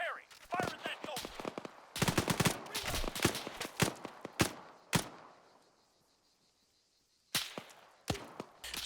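Machine gun fire in a war video game rattles out in sharp, rapid bursts, loud and close. A long quiet gap breaks the firing before more shots crack out at the end.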